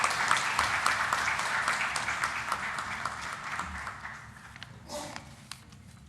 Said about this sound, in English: let's all give him a huge round of applause and welcome him.